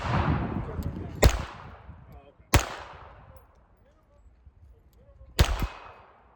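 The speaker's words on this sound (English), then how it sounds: "I'm shooting to the right here." Three sharp, loud gunshots from a Ruger Mark IV 22/45 .22 pistol, spaced a few seconds apart at an outdoor range. Each crack rings out briefly over quiet background noise.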